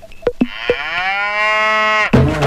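A water buffalo gives one long, loud, close low, preceded by a few short knocks and followed by a brief rustle.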